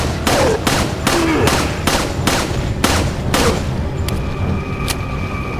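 Rapid bursts of gunfire from a video game weapon, about eight loud regular shots in quick succession, then a couple of sharper clicks and a thinner tone near the end, with no talking.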